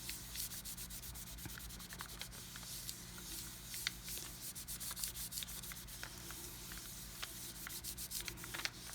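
Polymer clay flower cane pendant being burnished smooth, a steady soft rubbing with faint scratchy ticks running throughout at close range, no voices.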